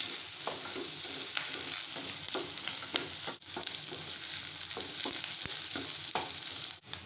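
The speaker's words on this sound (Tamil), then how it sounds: "போட்டு நல்லா வதக்கலாமுங்க" Ginger and cashews sauté in a pan with a steady, dense sizzle, broken by scraping stirs at a regular pace, and no voices.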